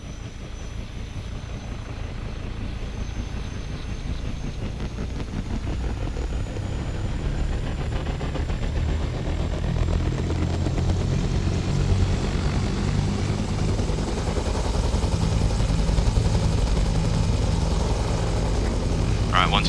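Aircraft engines spool up in ArmA 3, a broad steady roar that slowly builds in loudness over about twenty seconds, with a faint voice beneath.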